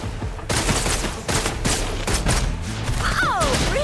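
Rapid, loud bursts of gunfire from a video game, Wuthering Waves, in several volleys with brief gaps between them and a whooshing sweep near the end.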